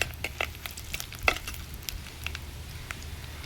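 Onion and dried red chillies frying in a small amount of oil for a Madurai-style onion curry, with a low, even sizzle, light crackles and occasional pops close by, and no voices.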